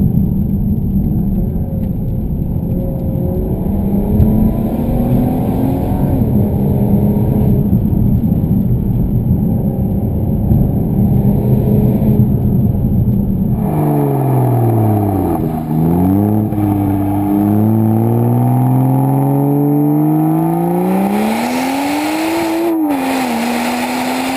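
A 2015 Volvo V60 Polestar is driven hard on a winding road, its engine droning loud and close, with revs rising and falling through gear changes.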